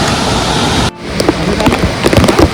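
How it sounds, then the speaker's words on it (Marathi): Heavy monsoon rain pouring at Nanemachi waterfall in the Sahyadri hills, a loud dense wash that cuts out abruptly, then returns as patchier, uneven spattering of drops close by, with no talk. "आता पाऊस सुरू झाला बघू शकता पाऊस सुरू झाला"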